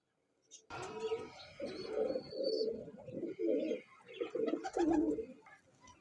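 Parwazi pigeons cooing in a series of soft, throaty coos, close and clear, with quiet pauses between calls.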